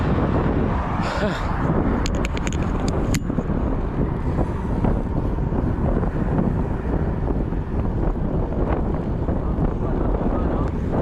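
Strong wind gusting across the microphone during a test ride in Sweden, a constant roaring rush, with faint high clicks near the start.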